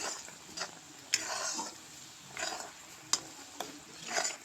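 Chalta (elephant apple) pickle is stirred in a pan, soft sizzling swells with each pass of the spoon and a couple of sharp clicks of utensil against metal, quiet and close.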